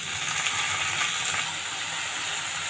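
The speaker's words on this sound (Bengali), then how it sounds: "এবার আমি শাকটা দিয়ে দিচ্ছি।" Greens dropped into a pan with bitter gourd already fried, hissing in a steady, dense sizzle that stays loud and even throughout, with no talking.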